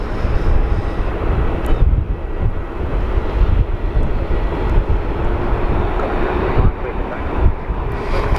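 A Rex airliner on its takeoff run at Sydney Airport on a windy day, a steady broadband engine roar holding at constant level throughout, with gusty wind buffeting the microphone.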